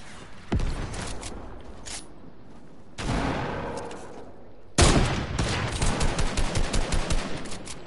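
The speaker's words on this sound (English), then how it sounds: "somebody shooting me out there" Gunfire in a video game, several loud bursts of rapid automatic shots, the last one a long run of closely spaced cracks, with short gaps between the volleys.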